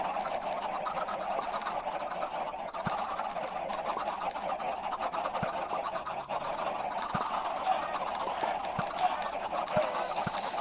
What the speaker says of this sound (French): Une usine à poulet, tout simplement.